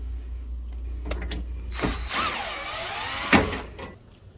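A power driver fitted with a 1/4 inch bit spins out screws on an older Amana PTAC unit, with a short whirring burst and ratcheting clicks, close and moderately loud, no talking.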